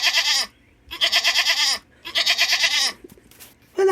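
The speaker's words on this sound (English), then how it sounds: "I would have to guess that is a goat." A goat bleats three times in a row, loud and close, each call a wavering nasal cry separated by short pauses.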